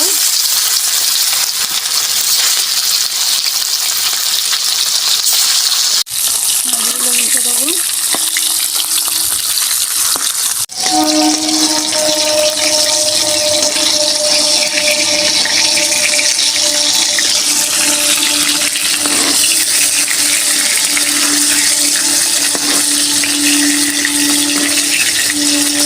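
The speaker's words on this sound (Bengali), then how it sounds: "আরও 3টে আছে, আমি ভেজে নেব।" Three fish frying in hot oil for a lotus-paste recipe, a loud, steady sizzle with crackling that runs the whole time, briefly interrupted twice before resuming with a hissing, bubbling roar.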